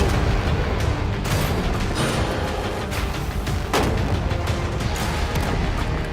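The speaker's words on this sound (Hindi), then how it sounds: "पहले बाकी शॉट्स फायर कर लेते हैं" Gunshots fired at a container holding money: continuous heavy, booming blasts overlap into a dense, loud barrage with no pauses.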